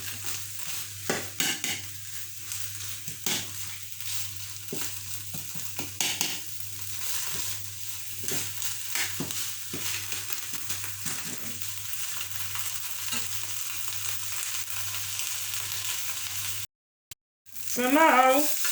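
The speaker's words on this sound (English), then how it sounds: "So I'm just letting my vegetable fry for another 2 minutes." Vegetables frying in a pan for ackee and saltfish, with steady sizzling, stirring scrapes and clicks, and a low hum underneath.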